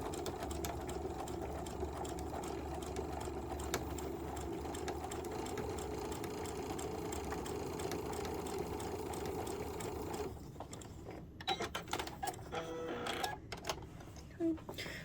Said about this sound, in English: On this side, we're going to sew just to the other side of it.